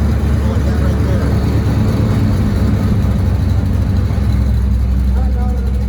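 Ford Mustang of the 2005–2010 generation with cams, headers and exhaust cutouts open, giving a loud, steady, deep idle rumble near the car, with someone talking over it.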